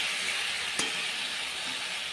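Spice paste for aloo potol dalna frying in a pan with a little added water, giving a steady soft sizzle and hiss with one brief sharp crackle, heard alone.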